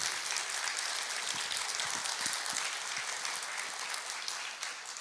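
A church congregation applauds, producing a dense wash of clapping that holds steady and then thins slightly toward the end, with a few deeper thumps mixed in.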